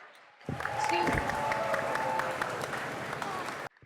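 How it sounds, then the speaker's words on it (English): A college audience at St. Xavier's bursts into applause, a dense, steady clapping that starts suddenly and holds at an even level for about three seconds before cutting off. "all of us here should actually give a round of applause to the Xavier's crowd"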